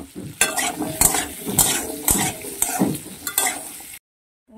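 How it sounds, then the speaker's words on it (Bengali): Diced potatoes frying in a wok, stirred with a spatula in a rhythm of repeated scraping strokes over a bright, steady sizzle, close and loud, stopping abruptly near the end. "আলুগুলোকে আমি লাল লাল করে ভেজে তুলে নেব।"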